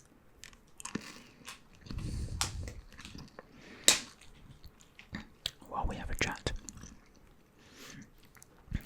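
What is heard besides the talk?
chewing gum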